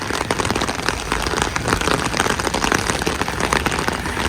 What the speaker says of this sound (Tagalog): Malakas na ulan pero okay lang